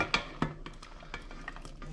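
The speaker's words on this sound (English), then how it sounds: "it goes straight into our delicious pasta sauce" Cooked pasta being stirred into a brown crab pasta sauce in a pan, with soft wet squelches and a few light utensil knocks against the pan, faint and close, with no talking.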